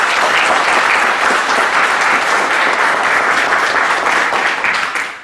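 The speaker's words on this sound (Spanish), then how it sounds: "Le pido un fuerte aplauso." Loud, sustained applause from a lecture audience at a talk on Machiavelli and The Prince, dense clapping filling the whole stretch before tapering off at the very end.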